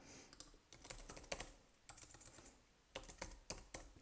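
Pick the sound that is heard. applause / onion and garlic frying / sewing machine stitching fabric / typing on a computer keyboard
typing on a computer keyboard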